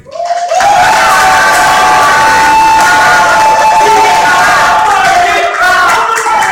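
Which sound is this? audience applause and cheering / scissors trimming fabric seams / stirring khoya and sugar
audience applause and cheering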